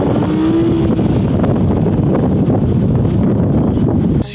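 A 2017 Audi R8 V10+ coupe accelerates hard on a closed dealer track, a loud steady engine roar with heavy wind buffeting throughout and no talk.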